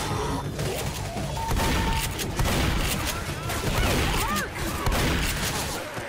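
Gunfire in a Left 4 Dead match rattles in a dense, continuous burst of close shots and booms, overlapping with players talking.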